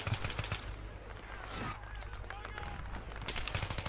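Gunfire in the game Battlefield 3, bursts of automatic weapon shots at the start and end with quieter battlefield noise between, fairly loud and dense.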